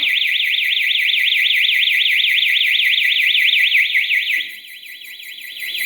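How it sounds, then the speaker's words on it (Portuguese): A home security alarm triggers after its entry countdown expires on a passive infrared motion sensor system, sounding a loud, steady warbling siren for about four seconds before dropping to a weaker tone, with no talking. "Não desarmou o alarme, ele disparou"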